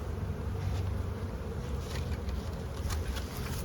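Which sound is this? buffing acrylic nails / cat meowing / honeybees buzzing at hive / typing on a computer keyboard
honeybees buzzing at hive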